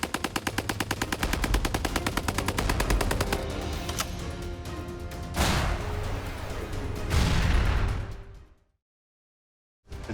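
Rapid bursts of fire from an M1917 belt-fed machine gun at a range, loud and close, with sharp repeated reports that end abruptly, followed by near silence.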